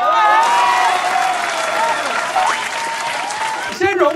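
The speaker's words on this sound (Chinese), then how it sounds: "掌声鼓励" Audience applause and cheering from a crowd at a Taiwanese YouTuber all-star sports event, loud and sustained throughout, with a presenter's voice heard over it near the end.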